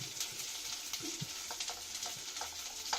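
Chopped onions sizzling in a hot pan, a continuous bright hiss of frying with scattered crackles and pops and a few soft utensil scrapes, fairly quiet and without talk.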